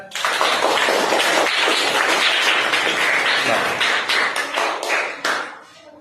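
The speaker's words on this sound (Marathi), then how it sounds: "टाळ्या वाजवा जोरात" A room of children at a midbrain activation class clap loudly together, a dense steady burst of many hands that runs for several seconds and tapers off near the end.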